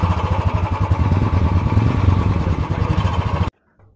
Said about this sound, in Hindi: अभी आपने तीनों ही रॉयल एनफील्ड के साउंड को सुना।